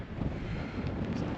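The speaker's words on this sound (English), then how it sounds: "It's too windy" Strong wind buffets the microphone on an exposed mountain hike in Wales, a loud, continuous low rumble with gusty surges and no voice.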